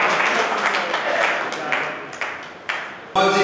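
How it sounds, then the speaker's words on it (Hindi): Audience at a felicitation ceremony for newly elected representatives in Sujangarh claps in welcome, a steady wash of applause that drops off, then ends in a sharp, bright burst. "तालियों के साथ स्वागत कीजिए।"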